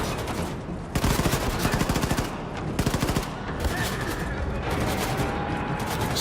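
Gunfire from the video game Wolfenstein 2: The New Colossus, with rapid machine-gun bursts and overlapping shots, loud and dense, rising and falling over a constant roar of battle.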